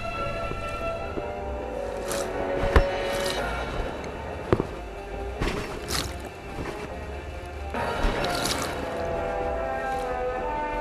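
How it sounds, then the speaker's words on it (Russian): Sea waves splash and slosh against a small boat off the Kuril Islands, with irregular wet bursts and thumps over a constant churning wash of wind and water. "Волна захлестывает лодку."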